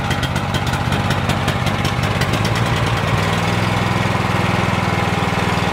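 Small gasoline engine on a pressure washer warming up as its choke is eased off, running loud and close with a rapid chugging beat that smooths and settles into a steadier idle.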